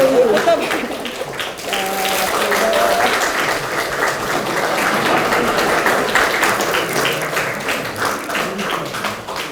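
Applause from a party gathering at a leadership inauguration ceremony, steady crowd clapping with voices talking over and among the claps throughout.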